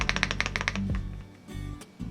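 Fast clacking keystrokes on a mechanical keyboard during a blind comparison test, a rapid burst of crisp taps at first, then quieter scattered clicks and a couple of soft knocks.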